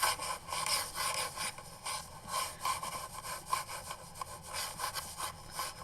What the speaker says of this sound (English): I think it's more like my leg rubbing against the computer.